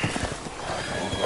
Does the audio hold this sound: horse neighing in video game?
yes